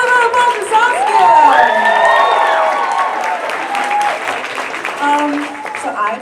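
An audience at an outdoor stand-up comedy show in a park claps loudly for comedian Saskia, with whoops and cheers rising over the sustained applause, and a voice calling out briefly.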